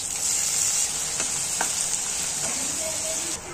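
Chopped onion frying in ginger-garlic paste in a hot pan, giving a bright continuous sizzle with a few scraping stirs and soft clinks up close.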